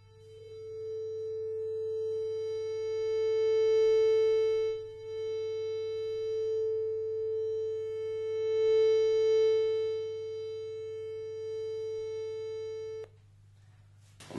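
Steady test tone generated on an iPhone and picked up by a Yeti microphone, a sustained pure pitch with faint harmonics that swells slightly twice, then cuts off abruptly near the end.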